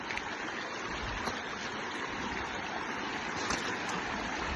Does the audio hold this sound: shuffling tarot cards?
no